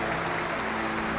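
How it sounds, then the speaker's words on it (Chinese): A theater audience at an errenzhuan folk performance show claps for a master and two apprentices, a dense, continuous wash of applause that is loud and steady from start to finish. "掌声再一次送给这师徒三人"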